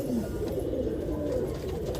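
Soft, low pigeon cooing murmurs steadily throughout, close by and continuous, with no talking.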